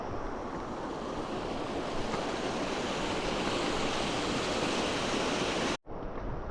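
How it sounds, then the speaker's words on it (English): Dense, constant roar of rushing water from a waterfall on the Appalachian Trail between Front Royal and Harpers Ferry, steady and loud throughout, cutting off abruptly near the end. "Look at that pretty waterfall."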